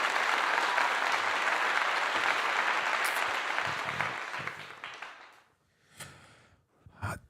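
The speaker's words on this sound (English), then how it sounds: "Round of applause for that." A crowd applauds loudly and steadily for several seconds, then the clapping fades away, leaving a few scattered claps and faint noises.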